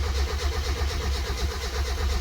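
The starter cranks the engine of a cheap, worn Mazda Miata that has a weak battery, a loud, steady, rhythmic churning drone heard up close with no one speaking.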